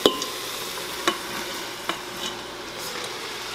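Cabbage tipped into browned meat in an Instant Pot for egg roll soup, opening with a thud and followed by a few sharp utensil knocks against the pot over a soft, steady sizzle.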